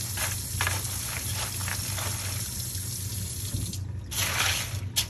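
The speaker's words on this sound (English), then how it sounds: "I might add a little more water just to cover that" Water splashes and trickles into a container holding a whole turkey and ice, a steady pouring sound with a louder gush near the end, close by.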